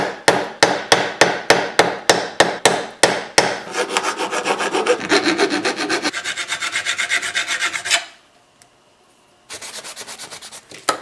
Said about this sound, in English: I think I'm going to rivet it.